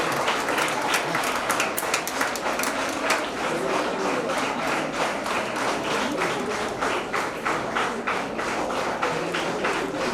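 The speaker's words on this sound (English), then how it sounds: "Girls, please give a big round of applause." Applause from the audience at a nursing college convocation day, a dense, steady patter of many hands clapping throughout, fairly close and loud, with faint voices mixed in beneath it.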